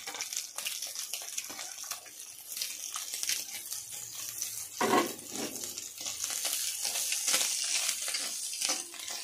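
Egg and onion stirred with cut cabbage and carrot in a hot pan for chicken rice, a steady soft sizzle with scraping, shuffling spatula strokes close up, one louder scrape midway.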